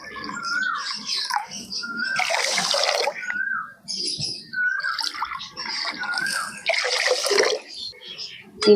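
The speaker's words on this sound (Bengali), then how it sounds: "এবার এই বাটি মেপে আমি 3 বাটি জল নেব।" Water is poured by the bowlful into a pan to make sugar syrup for rasgulla, in repeated splashing pours with someone talking between them.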